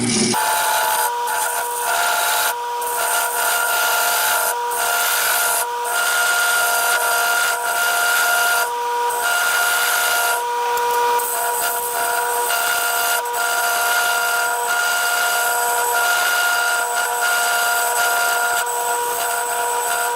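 A bowl gouge hollows the inside of a segmented cherry and walnut bowl on an outboard woodturning lathe, a continuous scraping rasp with steady ringing tones and intermittent clatter from the tool.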